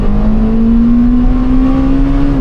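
Honda Civic Type R EP3 engine revving hard as VTEC engages, a loud, close, steady high engine tone climbing slowly in pitch with a rough, droning roar underneath, no voices.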